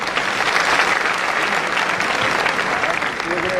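Loud, dense applause fills a large seminar hall in Hindi, sustained and even throughout, with a few voices faintly mixed into the crowd.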